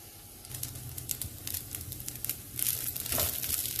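Cooked quinoa stirred into a pan while making lemon quinoa: soft crinkly scraping and light sizzle, with a louder stir toward the end, close and without talk.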